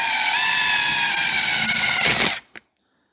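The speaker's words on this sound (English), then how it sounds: "All I'm going to do is drill a hole in the center with my drill screw." A power drill bores a hole in the center of an engine part on a 6-71 LS build, a loud steady high-pitched whine running about two seconds before cutting off abruptly, followed by one short click.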